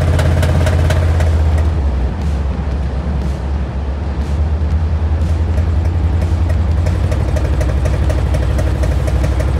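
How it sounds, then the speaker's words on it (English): A van engine with a broken rocker stud runs loud and close, a steady idle drone carrying a regular sharp knocking tick that repeats throughout, with no voices. "I suddenly developed a terrible engine knock."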